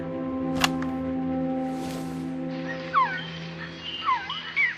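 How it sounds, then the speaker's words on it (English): Jungle bird calls recorded in the Metal Gear Solid: Peace Walker game, a few sweeping chirps and warbles rising over a steady low electronic hum, preceded by a sharp click. "She went out into the jungle to record bird calls and stumbled upon this."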